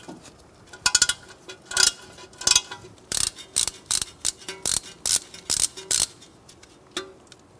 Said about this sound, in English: I'm going to use a 5mm Allen